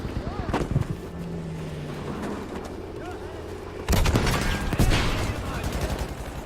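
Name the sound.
gunfire in the video game Battlefield V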